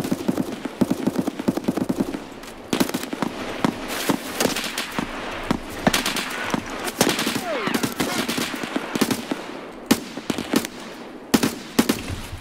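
Bursts of automatic gunfire and single shots in an Escape From Tarkov firefight, with 5.56 AK rifles involved, crackling in rapid rhythmic volleys near and far over about twelve seconds, with brief pauses and a player talking at times.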